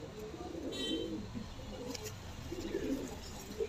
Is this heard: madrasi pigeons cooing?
yes